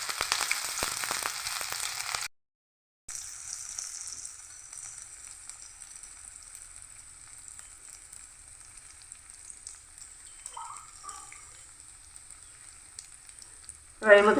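Bay leaf, dry chili, panch phoron, whole garam masala and ginger paste frying in hot oil, a loud crackling sizzle at first, then a brief gap and a steadier, fainter frying hiss, ending with a sharp clatter.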